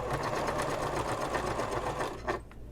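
Sewing machine basting fabric pieces of a messenger bag, a quiet rapid steady stitching rhythm that runs close by and then slows to a stop.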